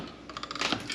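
Old house floor cracking and creaking as it is jacked up, a series of quick, dry clicks and snaps that grow denser and louder toward the end.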